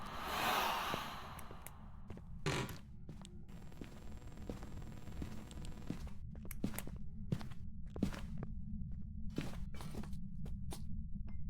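Ghost footsteps of a myling in the Phasmophobia horror game: a string of soft, irregular thuds over a steady low hum, faint and fairly distant, with no talking.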